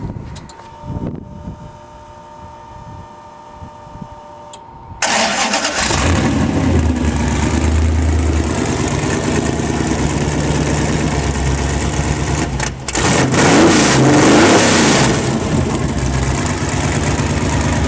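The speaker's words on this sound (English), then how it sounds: "We're going to start her up for you. We're going to fire it up for you." An off-road car with a Bosch inline fuel pump cranks briefly, then its engine catches and runs loud and close, idling with a rough steady drone and rising into revs toward the end.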